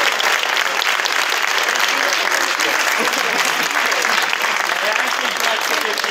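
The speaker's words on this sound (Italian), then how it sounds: "l'applauso più grande secondo me va a Giuseppe Campobasso" A crowd at a castle event gives a big, sustained round of applause for an honoured participant, loud dense clapping from many hands that holds steady from start to finish with a few voices mixed in.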